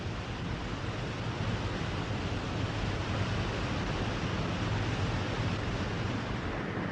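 The Zambezi river's waterfall pounds over basalt rock as a dense, unbroken roar of crashing water, loud and steady throughout with no voices.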